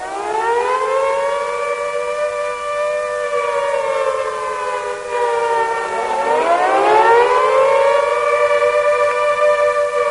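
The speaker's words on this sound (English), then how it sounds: "It is an air raid signal." A civil-defence air raid siren wails with a steady rising and falling tone, loud and unbroken, sounding alone with no voices.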